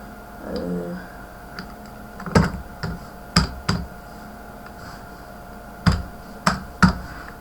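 Keys on a computer keyboard are tapped to enter a group name, about seven distinct clicks spaced irregularly, close and moderately loud, with faint background hum.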